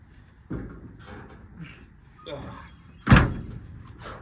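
The door of an FC Mazda RX-7 with an LS engine swap is pushed shut at close range: a few softer knocks and handling noises, then one sharp, solid slam.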